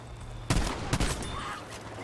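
Two sharp bursts of distant gunfire from a Battlefield V battle, roughly half a second apart, crack over a steady low hum, with no talking.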